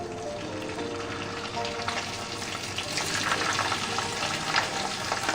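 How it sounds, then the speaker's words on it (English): Pieces of pork spleen sear in hot bacon fat, giving a steady, close sizzle and crackle that builds slightly over several seconds, with no talk. "I have some bacon fat from breakfast, and I'm just going to go ahead and drop these pieces in and sear them"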